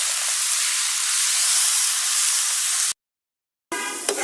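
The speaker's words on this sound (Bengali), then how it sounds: "এখন এর চিংড়ি মাছের ভিতরে দিয়ে ভালোভাবে ভেজে নেব" Drumstick leaves are fried with shrimp in a pan for a village-style bharta. A loud, steady hiss carries for about three seconds, then cuts to silence, then comes back with more sizzle.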